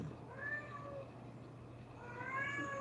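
A cat meows faintly, two drawn-out calls with a pause between them, over a low steady hum.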